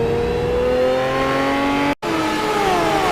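Aston Martin GT1 race car pulling away at Silverstone, engine loud and close with rising revs through the gears, a sharp break in sound at a shift, then climbing again as it heads off.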